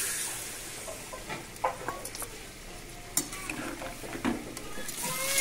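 Okra frying in a pan in a home kitchen, a steady close sizzle with clinks and scrapes of a spatula stirring through it.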